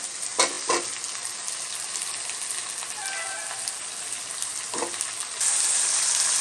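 Potatoes and beans fry in a pan with a steady close crackling sizzle, punctuated by a few stirring scrapes, growing brighter and louder toward the end.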